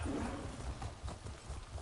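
Steady hoof clip-clops from a trotting horse in The Elder Scrolls Online, fairly close, with a low rumbling background and no talking.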